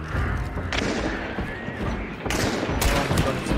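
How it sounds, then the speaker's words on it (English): Rapid bursts of gunfire from the video game Hunt: Showdown, heavy and continuous, with thumping shots and a louder volley near the end. "let's just fucking gun him down, I guess"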